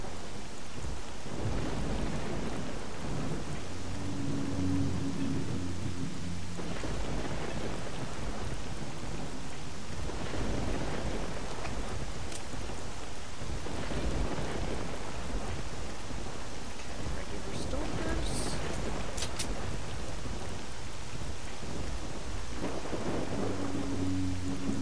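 Steady heavy rain pours through a S.T.A.L.K.E.R. game world, with several deep thunder rumbles rolling in and out over the downpour and a few brief sharp sounds near the end.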